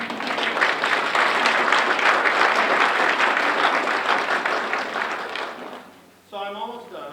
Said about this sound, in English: you better give your friends and family a round of applause